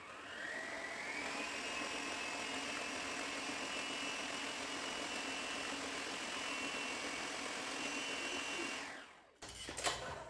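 Stand mixer with a paddle attachment whisking pale buttercream on high speed, giving a steady, continuous motor whir close by that holds for about nine seconds and then cuts off abruptly, followed by a short clatter.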